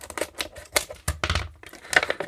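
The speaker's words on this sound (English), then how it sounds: "And a pair of scissors into this other packaging" Scissors cutting into plastic packaging for a night light, a series of sharp crinkling snips and crackles in uneven bursts, close and fairly quiet, with no talk.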